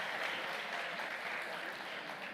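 Church audience gives a round of applause, a steady, even wash of many hands clapping, moderately loud and continuous with no talk over it.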